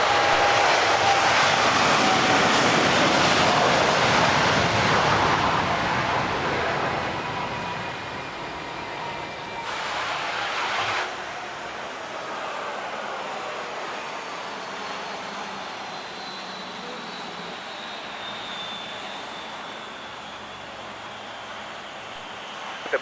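A KLM Boeing 787 Dreamliner takes off from runway 25 with a loud, broad jet engine roar that slowly fades as the aircraft climbs away, leaving a long, distant rumble.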